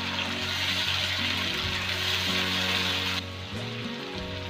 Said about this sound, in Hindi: अब इसके बाद इसके अंदर मैं डालने वाली हूँ लहसुन और अदरक का पेस्ट